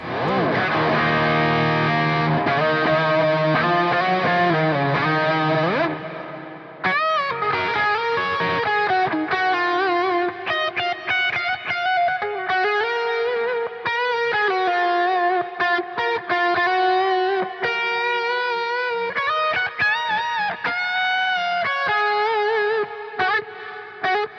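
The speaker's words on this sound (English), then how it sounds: "I'm slamming into the drive and the amps a little bit harder for more saturation" Heavily distorted electric guitar through a high-gain Headrush MX5 amp model, playing sustained, saturated chords and notes with a brief drop after a few seconds, loud and thick throughout.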